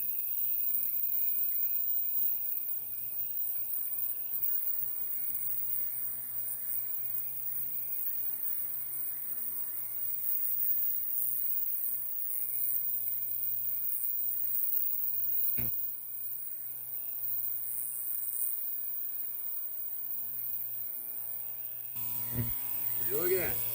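An ultrasonic cleaner runs with a carburetor soaking inside, giving a steady high-pitched electric hum with a faint buzz that holds throughout.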